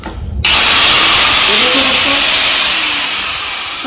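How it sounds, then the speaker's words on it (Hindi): A 4-inch angle grinder fitted with an iron-cutting disc bites into metal, starting abruptly into a loud, continuous high-pitched whine and grinding roar that holds steady and then eases slightly toward the end, close up. "ये 4 इंची ग्राइंडर लिया हमने और इसमें ब्लेड कसा हुआ जो लोहा काटने का ब्लेड होता है हमारा 4 इंची।"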